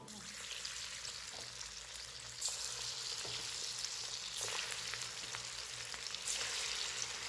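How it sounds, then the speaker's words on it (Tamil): Dal vada balls made with drumstick leaves deep-frying in hot oil over a medium flame, a steady close sizzle and crackle that swells louder as more batter drops in. "ஸோ இப்போ ஒவ்வொரு பால்ஸாக நம்ம இதை போட்டு பொறிச்சு எடுத்துக்கலாம்"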